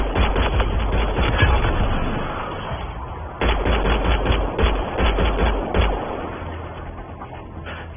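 Rapid gunfire in the sci-fi shooter Mass Effect Andromeda, dense bursts of shots and heavy weapon blasts rattling continuously, loud and close, easing off toward the end.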